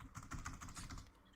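Quick, steady clatter of keys on a computer keyboard, close and fairly loud, a dense run of keystrokes with a brief lull near the end and no talking.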